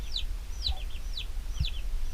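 A hen named Henrietta, mother of seven newly hatched chicks, gives a short run of soft repeated clucks, with higher chick peeps mixed in and low rumbling underneath.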